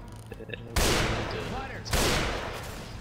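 Two loud, sharp sniper rifle shots from a semi-automatic rifle in the game Left 4 Dead, Swamp Fever level, each followed by a long decaying echo, with faint talk beneath.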